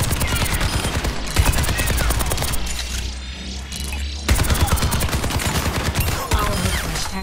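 Rapid automatic gunfire from Soldier 76's tactical visor in Overwatch 2, dense bursts of shots with a brief lull midway before the loud fire resumes, with no talking.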